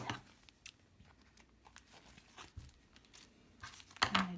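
A plastic bag crinkles and rustles in short, scattered bursts, with a sharper, louder crackle near the end, heard close up with no one speaking.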